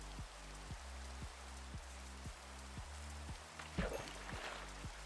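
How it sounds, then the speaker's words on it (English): Rain falls in the Minecraft video game, a soft continuous patter that runs under a repeating rhythmic game music pattern, with a brief splash-like burst near the end. "Rain."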